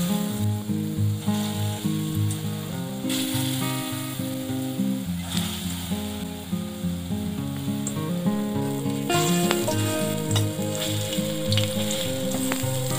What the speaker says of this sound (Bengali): ছোলার ডালের পেস্টটা এবার ছোট ছোট বড়ার মতো করে ভেজে নেব।